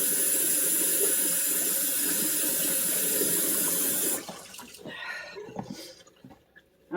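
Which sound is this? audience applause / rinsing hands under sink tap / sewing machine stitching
rinsing hands under sink tap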